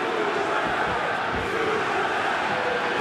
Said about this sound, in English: The crowd screaming in support for Raufeon Super Stots